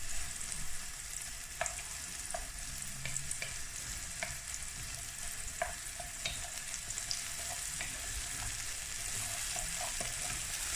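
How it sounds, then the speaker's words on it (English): Vegetables for pumpkin soup fry in a pan under a constant soft sizzle, punctuated by scattered light taps and scrapes of a utensil stirring them, quiet and continuous throughout. "keep stirring them, don't let them burn"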